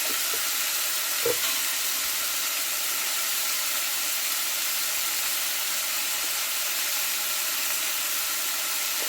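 Chili powder and turmeric powder frying in oil in a pan, giving a steady, soft, even sizzle close by that runs the whole time with no talking.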